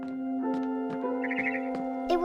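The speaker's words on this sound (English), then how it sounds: "Then I heard chirping outside my window." A barn swallow chirps outside a window in the video game What Remains of Edith Finch, a few short bright twitters over a sustained tonal music bed.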